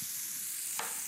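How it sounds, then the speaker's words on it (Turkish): Chopped onions and peppers sauté in a hot pan, giving a steady, close hiss with a brief stirring scrape near the end. "Şöyle soğanımı, biberimi, kapyamı ne yapacağım? Güzel bir soteleyeceğim."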